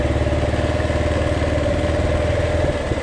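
A dirt bike engine runs steadily up close, with a continuous pulsing, rhythmic throb and a faint metallic clatter, heard alone with no talk.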